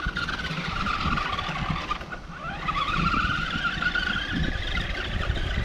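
Vintage RadioShack RC truck driving outdoors, a continuous whining electric motor with tire scrub, rising and dipping in pitch as it accelerates and turns, fairly close and steady throughout.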